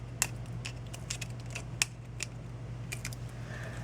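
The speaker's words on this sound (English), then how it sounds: "we'll peel off these dimensionals" Backing strips are peeled off adhesive foam dimensionals on a handmade paper card, giving several short, crisp ticks and rips spaced apart, close and quiet.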